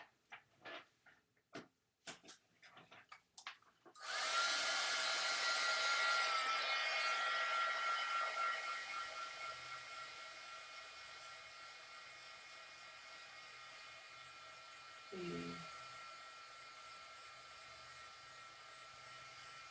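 A handheld blow dryer starts up after a few clicks and runs as a loud, steady whoosh with a high whine, drying damp hair in a salon setting, then eases slightly and continues alone.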